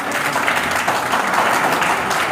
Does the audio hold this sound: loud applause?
yes